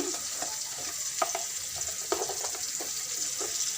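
Chopped onions and a spice paste fry in a pan for a turnip and rohu fish curry: a soft, even sizzle with frequent quick spatula scrapes and taps close up, and no voice.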